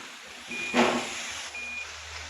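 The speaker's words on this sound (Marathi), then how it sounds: "चला रिव्हर्स करू गाडी" Truck reversing beeps in a truck video game: two short, thin electronic tones about a second apart, heard close over a low steady engine rumble, with a brief louder burst between them.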